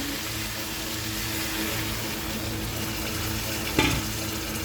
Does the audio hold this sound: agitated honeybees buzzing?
no